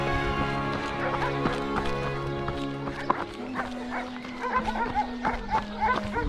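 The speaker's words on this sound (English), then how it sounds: "the Bedouins' dogs are barking" Bedouins' dogs barking in the desert near an ancient aqueduct between Jerusalem and Jericho, a string of sharp barks at moderate distance over a trail runner's footfalls and outdoor ambience.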